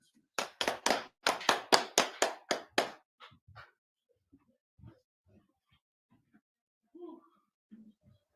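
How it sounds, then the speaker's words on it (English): Congregation at a Sabbath service clapping hands in unison, about ten loud, evenly spaced claps, then a few scattered taps and quiet voices talking afterward. "Clap."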